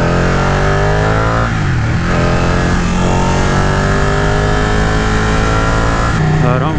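A Ducati Panigale 959 (2018) motorcycle engine while riding, a loud steady drone with rising and falling pitch as it revs and shifts, mixed with wind noise, and a rider talking over it.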